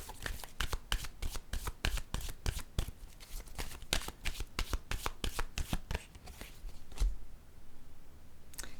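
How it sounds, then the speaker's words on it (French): Tarot-style cards are shuffled rapidly by hand, a dense run of crisp riffling snaps close up that ends in a softer shuffle and a single card being drawn. "Attendez, je vais plutôt piger une carte pour ici."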